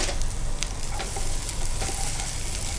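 Garlic frying in hot oil gives a loud, close, dense crackling sizzle with faint stirring taps, steady for the whole moment and free of talk.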